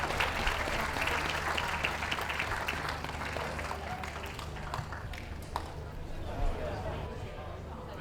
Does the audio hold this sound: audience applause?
yes